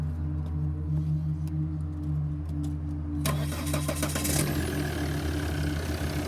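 A Volvo XC90 engine cranks and catches a little past midway, then settles into a steady, smooth idle after a low background hum.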